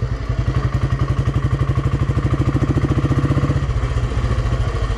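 A Royal Enfield Bullet 500 single-cylinder motorcycle idles steadily up close, its loud, even thump repeating rapidly with mechanical clatter and no talk.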